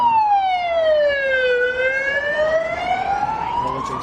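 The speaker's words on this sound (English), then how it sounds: "Apologies for the sirens going behind us." Emergency vehicle sirens wail loudly and continuously, sweeping down and back up in pitch, close by, with no talking.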